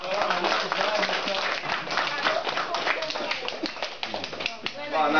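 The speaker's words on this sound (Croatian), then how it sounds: "Opet aplauz" Audience applause at the Gambit 2010 quiz show award ceremony: dense, steady clapping from a crowd that fills the whole stretch, with people talking over it.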